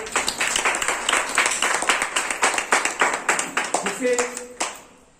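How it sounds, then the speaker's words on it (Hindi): Parents at a school session clap loudly together, a dense burst of applause for several seconds that tapers off toward the end. "हम एक बार थोड़ी सी जोरदार ताली बजाएंगे"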